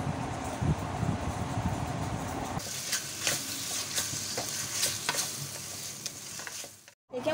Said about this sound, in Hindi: इसे खूब भूनेंगे अच्छी तरह, 5-6 मिनट तक इसे भूनेंगे.